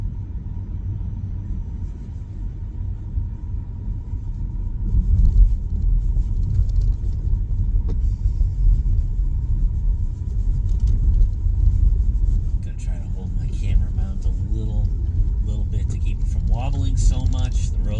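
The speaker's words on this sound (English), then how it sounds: "The roads are not really very smooth because of all the snow on them." A car rolls along a rough, snow-covered road during a snowstorm, a steady low rumble of tires and suspension thumping throughout, with a person talking over it and faint clicks toward the end.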